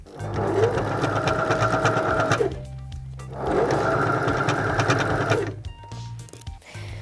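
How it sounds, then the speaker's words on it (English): A sewing machine stitching the top onto a caterpillar costume body runs in two loud, steady, rapid bursts of roughly two and a half seconds each, with a short pause between them. "I'm now going to sew around that to attach the top to the caterpillar body."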